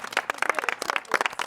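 A studio audience breaks into brief applause during a televised relationship reality show, a quick burst of scattered claps at moderate level with no voices over it.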